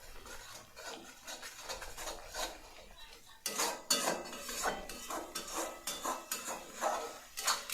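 A spatula scrapes and clatters against a pan while a fennel and whole red chilli spice paste is sautéed. Irregular metallic scrapes and knocks repeat close by, growing louder and busier partway through.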